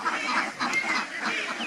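Campbell ducks on a duck farm holding about 350 birds quack continuously in a dense, overlapping chorus, close and steady throughout.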